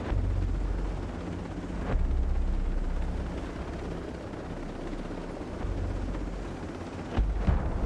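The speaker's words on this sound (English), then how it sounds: "Explosions" Explosions from the video game Ghost Recon Breakpoint rumble as a dense, continuous low roar with heavier surges near the start, around two seconds, and again late, with no talking.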